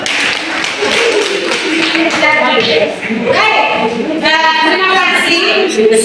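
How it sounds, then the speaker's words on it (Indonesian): Schoolchildren in a classroom clap their hands together, a loud burst of patterned claps and taps mixed with excited young voices calling out over the clapping. "Oke, tepuk tangan dulu."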